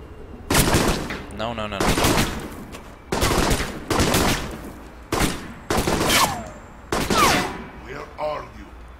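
Gunfire in the video game Alpha Protocol: several loud bursts of rapid automatic shots in quick succession, each cut off by short pauses, with a voice talking between them.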